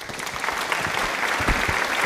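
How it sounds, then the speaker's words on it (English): Dense, steady applause from a crowd of many hands clapping, filling the whole stretch at an even level with no voices over it. "thank you for the applause"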